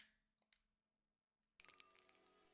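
A bell rings in Ace Attorney Investigations: Prosecutor's Gambit, a bright sustained ringing tone that starts abruptly after near silence and holds steadily, with a tiny faint tick beforehand.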